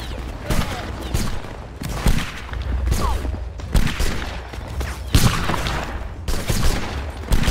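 In the game Napoleonic Wars, repeated volleys of musket fire crackle and boom in irregular bursts, loud and close, with a dense battle din throughout.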